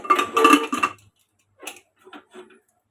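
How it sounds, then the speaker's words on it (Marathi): A few metallic clanks and clinks as a lid is fitted onto a pressure cooker, followed by lighter taps and a pause. "आता मी कुकरला झाकण लावते"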